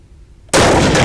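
A single loud, close rifle shot from a Haenel Jaeger 10 bolt-action in .308 Win, a sharp blast bursting out of near-silence and ringing briefly without decay before the end.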